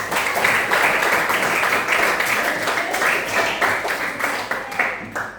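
A classroom of students claps together on a teacher's cue, a dense, sustained burst of applause that stays loud and even before tapering slightly at the end.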